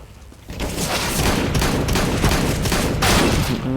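Rapid gunfire in Counter-Strike: Global Offensive rattles loudly and continuously in dense bursts, close and sustained, with no talk over it.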